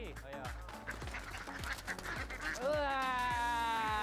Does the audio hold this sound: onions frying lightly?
no